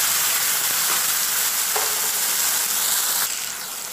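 Coriander leaves and chili paste fry in hot oil, a loud, steady, close sizzle with occasional stirring, easing slightly toward the end.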